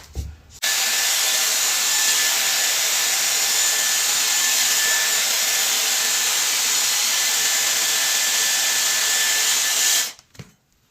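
A Dyson hair dryer blowing steadily while hair is wrapped and styled for a blowout, a loud continuous airy whoosh with a faint high whine that starts abruptly and cuts off about ten seconds later.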